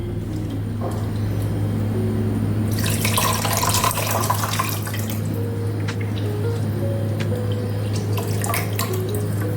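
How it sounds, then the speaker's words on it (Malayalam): Tamarind water pours into a pot of garlic rasam in a kitchen, a splashing liquid stream that swells for a couple of seconds over a steady low hum, then settles into faint drips. "കുറച്ചുകൂടി പുളി ഒഴിച്ചു കൊടുക്കുക."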